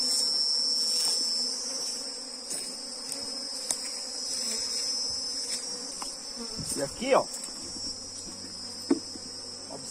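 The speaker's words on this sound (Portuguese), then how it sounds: "observem que já tem bastante abelhas" A crowd of honeybees hums steadily around an occupied hive, their dense buzzing filling the air close by while someone speaks briefly over it.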